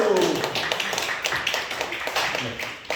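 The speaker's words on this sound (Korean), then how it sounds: "박수." Steady applause fills a youth church service, a dense run of clapping from a group that stays loud and continuous throughout.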